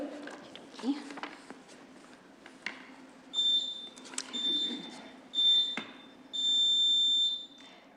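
A podium timer at a council meeting gives a series of high, steady electronic beeps, four tones spaced a little over a second apart, among soft room noise and shuffling.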